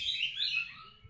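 A magpie robin (kacer) gives a brief, bright chirping phrase with quick shifting notes, fairly close and clear with no voices.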